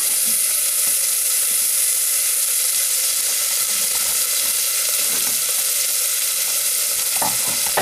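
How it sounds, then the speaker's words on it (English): Loud, continuous sizzling and crackling of roughly chopped onion frying in hot melted butter, close up, with faint stirring bumps and no voices. "there's the onion, chopped roughly, and that's going into the butter. Can you hear it sizzling?"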